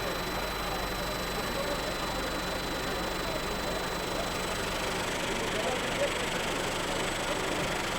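At a manufacturing expo, a food production machine with a main motor, cutter and vibrator runs as a steady, dense mechanical drone and hum. A person talks over it throughout.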